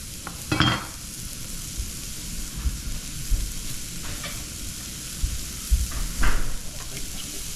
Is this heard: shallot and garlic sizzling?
yes